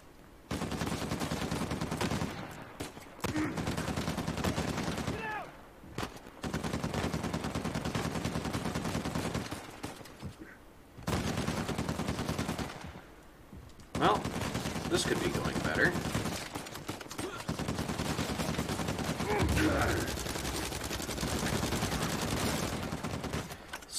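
Gunfire in the Uncharted 4: A Thief's End action game comes in repeated bursts of shots and volleys, stopping briefly between them. A voice talks at times over the shooting.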